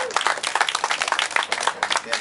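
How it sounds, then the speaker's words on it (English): A round of applause for on-court instructors at a tennis camp closing ceremony, brisk uneven clapping from a modest group lasting a couple of seconds, with voices mixed in. "let's give the on-court instructors a round of applause for the job they did"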